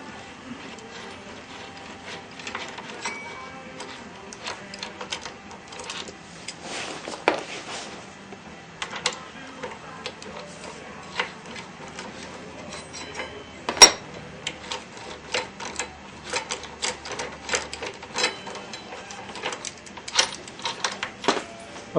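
Bolts are worked loose from the brake caliper of a BMW F650GS motorcycle. Scattered ratchet clicks and short metallic ticks come in irregular bursts throughout, close and fairly quiet, with a sharper clank near the middle.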